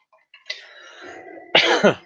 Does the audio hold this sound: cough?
yes